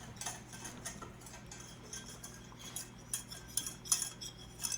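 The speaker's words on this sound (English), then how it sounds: "We just whisk it together just as I am here." A whisk beats flour into gravy to make a paste, giving quiet, rapid clinks and taps of metal against the bowl in uneven bursts, close but faint, with no speech.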